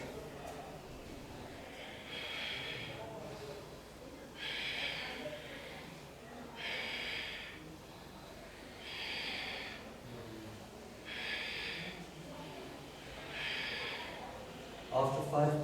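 Deep, slow breaths during an Ashtanga yoga hold form a regular series of about six hissing inhales and exhales, each a couple of seconds long and evenly spaced, heard close and softly.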